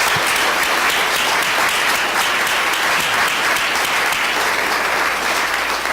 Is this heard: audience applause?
yes